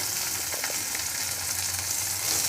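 Chopped onion fries with grated garlic and ginger for crispy chilli baby corn. A dense, even sizzling hiss continues without a break through the short stretch, close and moderately loud.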